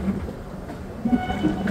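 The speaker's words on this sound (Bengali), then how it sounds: "আর ট্রেন খুবই মন্থর গতিতে ঢুকছে পুরী স্টেশনে।" The Puri Garib Rath Express 12881 creeps slowly into Puri station, giving a low, steady rumble with faint rattling and no voices.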